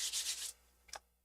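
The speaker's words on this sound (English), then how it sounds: "I'm going to use my embossing buddy and just kind of tap it on here and on that one." Embossing buddy tapped and rubbed over cardstock for a card, a few soft, close brushing pulses in quick succession, then a brief single scuff after a pause.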